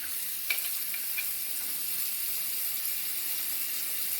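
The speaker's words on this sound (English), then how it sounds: "I've got a little dish soap in my hand here, and I'm going to wash these" 3D printed motor rotor parts are washed by hand with dish soap and water, giving a steady close wet hiss and swish with a few faint clicks near the start.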